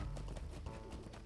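Horse hoofbeats from a mount in the online video game Lord of the Rings Online, a brief rhythmic clip-clop over steady game ambience, with no speech.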